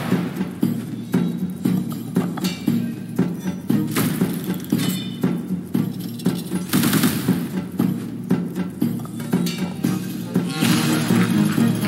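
Repeated explosive bursts from a double kaboom effect in an online slot bonus game, loud and punchy, landing a few seconds apart over a busy layer of game music and clattering effects.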